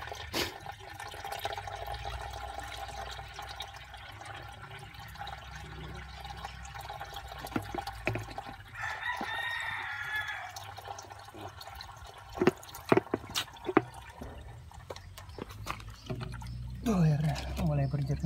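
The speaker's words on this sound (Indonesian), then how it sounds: "Kita tambah lagi satu botol sampai air di dalam radiator ini, air yang keluar itu bersih." Water flushing out of a car radiator makes a soft, steady pour and trickle with occasional drips and splashes, faint beneath someone talking.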